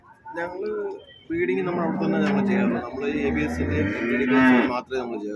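Several loud, drawn-out cow moos close by, one after another, with a brief pause early on.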